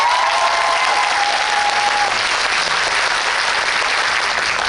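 Sustained applause fills a cinema hall from an audience at a movie talk event, dense and even, with a faint voice briefly audible underneath at the start.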